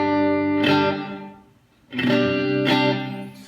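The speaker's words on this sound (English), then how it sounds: "the pedal that I always have on is my Blue Sky, which is a reverb pedal" Sustained electric guitar chords played through a Blue Sky reverb pedal ring out with a washy reverb tail, fading into a lingering decay before another strummed chord swells up.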